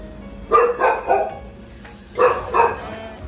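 A litter of black puppies about forty days old gives two pairs of short, high yapping barks close by, with a quiet pause between them.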